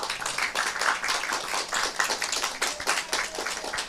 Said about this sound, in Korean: 우리 예수님께 박수 보내드리십시다